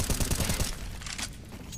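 Rapid burst of automatic gunfire in Counter-Strike on the map Cache, loud and rhythmic, then dying off into quieter scattered sounds.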